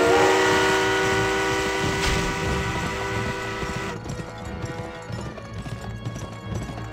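In the Western video game GUN, a train rumbles past with loud, dense clattering and ringing metallic tones that fade and turn into a rougher, rhythmic rattle partway through.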